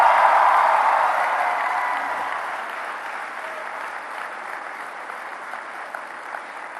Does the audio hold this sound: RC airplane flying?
no